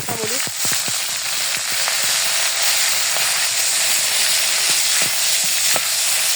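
Oil sizzles and hisses steadily in a pan with salt and green chilies being added before chopped onion, a few clinks of a spoon against the pan early on, close and continuous.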